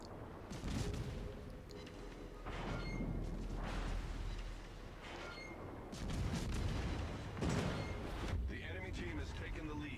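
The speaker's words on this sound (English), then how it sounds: "Now watch how much damage we can do when we land these armor-piercing salvos on the Shimakaze" Armor-piercing shell salvos from the cruiser Minotaur slam into the destroyer Shimakaze in World of Warships, a string of heavy booming impacts and gunfire bursts in repeated waves, with someone talking over them.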